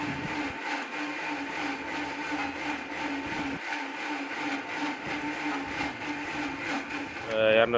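A mixer grinder grinding mint whirs loudly and steadily, a continuous motor drone with grinding texture that holds for several seconds before a brief change at the end.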